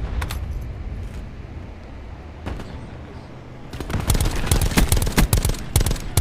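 Rapid bursts of automatic gunfire from a gun in a video game, sparse shots at first and then dense, loud volleys in the second half.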